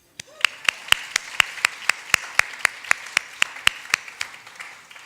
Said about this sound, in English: I would like to have a round of applause for the 16 men who came